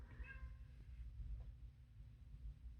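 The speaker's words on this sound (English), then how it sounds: "I've got a cat beating down my door." A cat outside a closed office door gives a short, faint meow early on, muffled under a steady low room hum, followed by soft scattered bumps.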